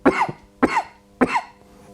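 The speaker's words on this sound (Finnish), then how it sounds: "jäänyt tämmönen ikävä kutitteleva köhä siitä jäljelle" Three evenly spaced, close, dry coughs, each a sharp burst with a short tail, from a person with a tickly cough left over after the flu.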